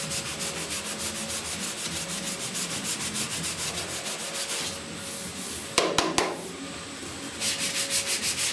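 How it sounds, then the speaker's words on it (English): Sanding block rubbing primer-surfacer on the roof of a 1969 Chevrolet C10 pickup, close and steady rhythmic back-and-forth rasping strokes, briefly interrupted by a few sharp taps before the strokes resume. "I'm really only sanding with about this corner right here"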